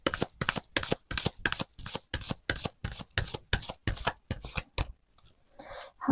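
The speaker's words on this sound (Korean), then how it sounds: "한 번 더 셔플할게요." Tarot cards being shuffled by hand in a quiet room, a rapid run of about a dozen crisp riffling bursts close to the listener, stopping near the end with a faint rustle after.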